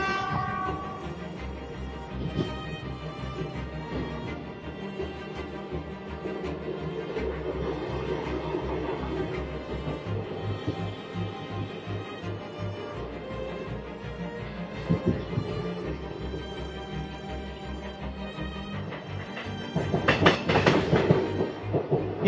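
A NALCO diesel locomotive hauls a train through the Eastern Ghats on the Koraput–Visakhapatnam line, a steady rumble with rhythmic clickety-clack of wheels over rail joints, swelling louder toward the end as it passes close.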